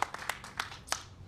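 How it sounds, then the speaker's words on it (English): Faint, scattered clapping from an audience at a kitchen building purchase announcement, a few soft uneven claps heard at a distance and quickly thinning out. "You can clap for her as well."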